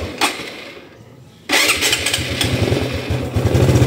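A small moped-style motorcycle is started with the electric starter: a brief quiet pause, then the engine catches and settles into a loud, close, rapid putting idle.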